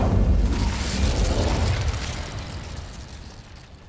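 A fire spell cast in Hogwarts Legacy erupts as a loud, close whoosh-boom burst of flame, then rumbles and slowly fades over a few seconds.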